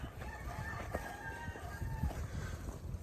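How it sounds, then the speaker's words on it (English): A rooster crows twice, faint and distant, over a steady rumbling background of engine or road noise. "that's a rooster telling us it's time to wake up"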